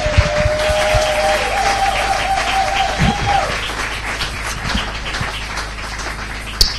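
A church congregation applauding together, a dense, sustained wash of clapping that fades gradually toward the end, with a held tone and a voice briefly audible over the start.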